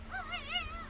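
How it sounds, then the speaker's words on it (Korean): Faint, high-pitched whimpers of newborn puppies rise and fall in a few short wavering cries inside a rural doghouse, nearby and quiet. "저 새끼가 울고 있어요."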